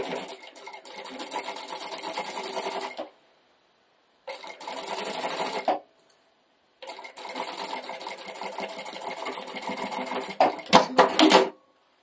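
Sewing machine stitching a table-runner fabric along a marked line in three steady runs separated by brief silent pauses, with no voices.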